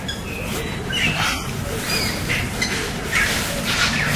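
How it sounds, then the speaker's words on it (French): Birds sing in the courtyard of a large estate. Scattered high chirps and short calls rise over a dense, steady outdoor background at moderate distance. "il y a les oiseaux qui nous reçoivent. Vous voyez, vous entendez ce chant d'oiseaux"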